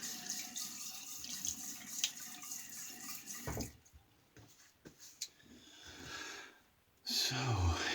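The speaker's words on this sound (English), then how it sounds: "A little rinse." A bathroom tap runs for a quick rinse during a wet shave. The water flows softly for a few seconds, then cuts off, leaving a quieter stretch before a brief louder splash near the end.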